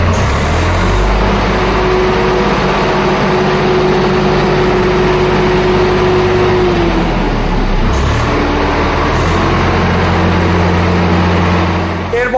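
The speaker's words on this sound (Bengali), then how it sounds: "এবার আপনাদের স্টার্ট দিয়ে দেখাচ্ছে, গাড়ির ইঞ্জিনের সাউন্ড শোনাচ্ছে" A Swaraj 744 tractor engine running loud and close, a steady low diesel rumble with a held tone that dips briefly partway through, then settles back to a continuous drone.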